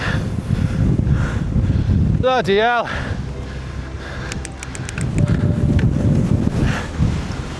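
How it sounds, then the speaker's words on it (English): Strong wind buffets the microphone in heavy, rumbling gusts while cycling in Yorkshire, with a man's short exclamation midway and faint chirps. "Oh, the wind!"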